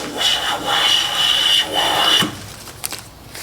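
A freshly sharpened hand plane shaves wide, thin curls from a wooden board in a few close, smooth rasping strokes, each lasting about a second, followed by brief handling knocks.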